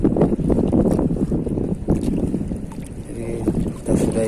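Wind blows across open water on a morning mullet fishing trip, giving a loud, steady, rumbling buffet against the microphone with surging gusts. No voices come through over it.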